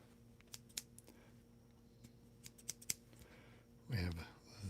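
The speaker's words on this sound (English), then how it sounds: "The little scissors with a little, I'm sure this part has a name that I don't know, that helps guide the scissors." Small scissors fitted with a little guide piece, kept in a grooming drawer beside a beard wax tin, snip in several crisp, close, quick clicks spread over a few seconds, followed by a brief soft rustle.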